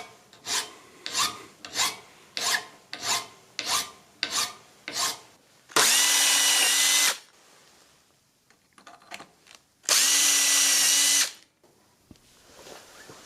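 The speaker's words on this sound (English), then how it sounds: "The hole in the trigger handle needs to be enlarged to fit the number 10 screw." A power drill enlarges the hole in an air blow gun's trigger handle to fit a number 10 screw, with short rhythmic grinding bursts followed by two longer, loud, sustained whirring runs separated by quieter handling noises.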